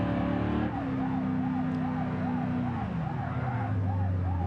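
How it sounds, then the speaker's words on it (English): A police siren on a 1972 or 1975 Bruckell Moonhawk HP 448 in a driving video game wails in a steady, rapid up-and-down cycle, loud and continuous over a deep engine drone that drops in pitch partway through. "we'll just leave the siren on the back one on so we can figure out where it is"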